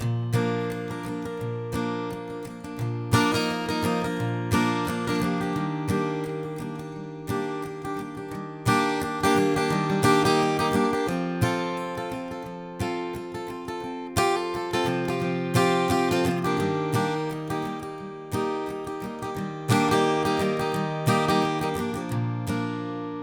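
An acoustic guitar strums the verse chords of a song in a steady, rhythmic pattern, played close and clear with no voice over it.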